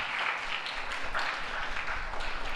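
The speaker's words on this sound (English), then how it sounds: "Let's give her a round of applause." An audience at a school morning assembly for International Day of Peace applauds steadily, a dense continuous wash of claps at moderate level with no pauses and no voice over it.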